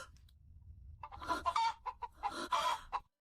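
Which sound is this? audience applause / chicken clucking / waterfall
chicken clucking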